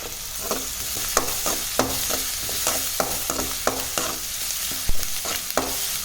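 Onions and curry leaves sauté in a hot pan for an egg curry, a steady sizzle broken by repeated scraping stirs of a spoon, close and fairly loud with no voices.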